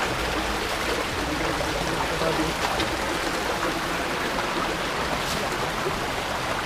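Strong current of a mountain-fed river at Tacloban, Barangay Malibayo, Batangas City, rushing in a steady broadband roar close by, with a voice speaking over it.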